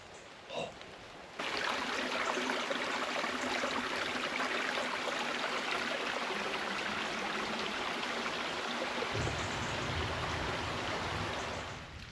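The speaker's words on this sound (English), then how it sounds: "France is full of little streams like this" A small stream in France flows in a steady, close rushing burble that holds for over ten seconds, with faint knocks just before it begins.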